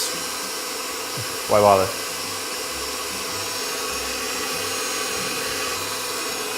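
An electric mixer whips egg whites for meringue, a steady high whirring drone throughout, with a brief louder rattling burst early on and a short spoken aside over it.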